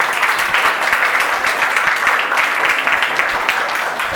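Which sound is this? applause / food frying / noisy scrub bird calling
applause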